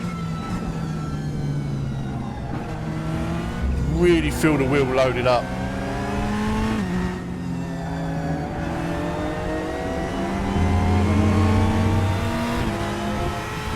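Race car engines in the RaceRoom sim racing game, a loud close engine revving and shifting through gears with rising whines, while someone talks over the driving.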